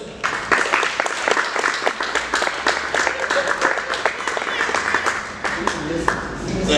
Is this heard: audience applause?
yes